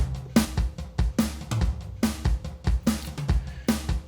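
A solo drum groove with sharp kick and snare hits in a steady rhythm, each hit trailing into a short roomy reverb tail from an Ocean Way room modeler plugin.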